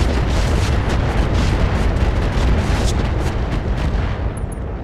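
Missile salvos slam into a heavy wheeled APC in the BattleTech RogueTech game, a dense, continuous rumble of launches and explosions with sharper bursts around the middle, loud and unbroken, easing slightly at the end.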